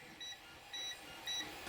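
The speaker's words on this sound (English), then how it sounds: "And then my negatives should all beep." A continuity tester beeping while connector pins are checked during assembly of a lightsaber hilt pixel connector. Three short, faint, high-pitched beeps are evenly spaced over a couple of seconds against a quiet background hiss.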